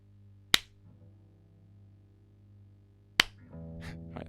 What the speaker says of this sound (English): I don't think I did a sync clap